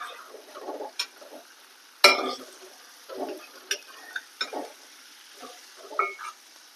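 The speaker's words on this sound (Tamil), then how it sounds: "ஆனதுக்கப்புறம் நல்ல தக்காளி இது மாதிரி மசிச்சு விடுங்க." Tomato is mashed and stirred into a frying chili-spice masala for vatha kuzhambu, with a faint sizzle beneath a series of separate, close scraping and tapping stirs spaced irregularly and no talk.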